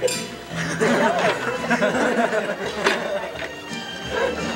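Ice cubes clink in a drinking glass at a karaoke café, a few light chinks under lively chatter and laughter from people nearby.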